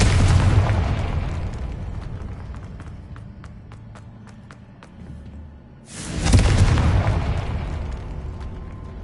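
Two heavy Confringo spell explosions in the Hogwarts Legacy video game, one booming at the start and another around six seconds, each decaying into rumbling debris with faint crackles between.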